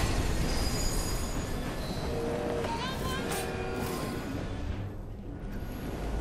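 A moving train in Assassin's Creed Syndicate gives a continuous heavy rolling rumble, with high wheel squeals rising over it partway through.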